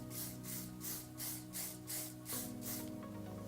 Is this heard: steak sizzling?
no